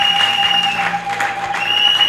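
A church congregation applauds together, a dense, fairly close wash of clapping that fills the whole moment, with a sustained musical tone running beneath it.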